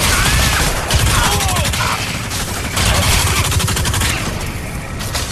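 Rapid gunfire from a recoilless weapon in the shooter Crysis 3 rattles in dense bursts over several seconds, close and loud, with brief pauses between volleys and no talking.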